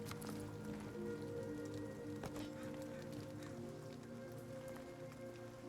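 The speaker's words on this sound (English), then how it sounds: "And it's raining." Steady rain falls outdoors at night, a constant dense patter running unbroken throughout at moderate distance with faint low hum beneath.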